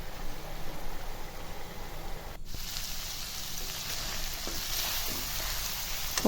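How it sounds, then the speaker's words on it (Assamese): Pork and colocasia (taro) dry-frying in their own rendered fat with no water added, giving a steady close-up sizzle with a brief dip partway through, no one speaking. "শুকান ভাজি বনাইছো, গাহৰি মাংসই কলডিলে শুকান ভাজি।"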